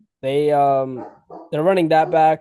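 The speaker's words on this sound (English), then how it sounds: "Apologies for my dog in the background." A dog barks in the background at home while someone speaks; its barks are largely masked by his voice, which stays clear and close.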